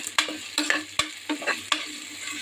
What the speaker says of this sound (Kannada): ಎಣ್ಣೆ ಕಾಯುವಾಗ ಅದಕ್ಕೆ ಸ್ವಲ್ಪ ಈರುಳ್ಳಿ, ಕರಿಬೇವು ಸೊಪ್ಪು, ಹಾಕಿ ಚೆನ್ನಾಗಿ ಫ್ರೈ ಮಾಡ್ಕೊಳ್ಳಿ